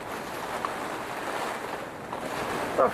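Gusts of wind rush and buffet around a polycarbonate greenhouse with a flexing side wall, a steady low roar with brief bumps of wind noise against the microphone and no voices.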